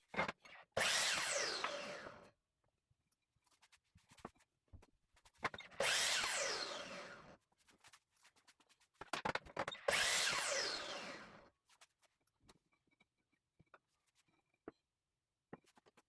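A power saw cuts pallet-wood coffee table legs three times, each bursting into a loud whining rasp for about two seconds, with clattering handling noises and brief knocks between the cuts.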